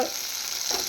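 Tomatoes stirred in hot oil in a pan while cooking pabda fish curry, heard as a brief, even sizzle close by with a soft scrape of the spoon near the end.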